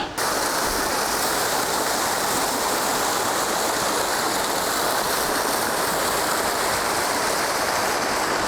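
A waterfall rushes in a constant, loud wash of flowing water, steady and close throughout with no voices.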